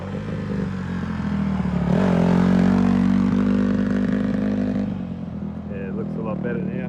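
A Honda CRF150R dirt bike with big-wheel conversion revs and pulls away on a test ride, its engine rising to a loud buzzing peak before easing off, with people talking nearby.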